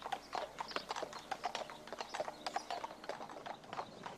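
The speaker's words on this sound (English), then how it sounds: "Carty pounded with his feet, and every time he slammed down a hoof" A heavy horse named Carty clip-clops under a rider, his hooves pounding down in a steady, close, repetitive rhythm with faint mechanical creaks and no voices.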